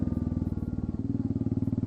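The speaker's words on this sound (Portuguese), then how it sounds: "Comente aí o que você achou do som desse motor aqui" Royal Enfield Classic 350 single-cylinder motorcycle engine idling with the exhaust tip removed, a close, loud, rapid even thumping pulse that shifts slightly lower partway through.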